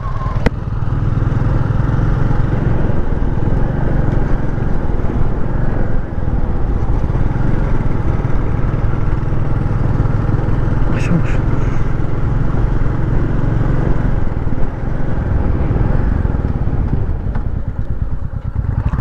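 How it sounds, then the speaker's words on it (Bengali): A new motorcycle's engine runs steadily and loudly for the whole stretch while riding a mountain road from Laitlum to Sohra, with wind buffeting and a few brief clicks over the continuous drone. "আমার বাইকটা অনেক স্মুথ নতুন বাইক তো যেমন ব্রেকিং এমন স্মুথ"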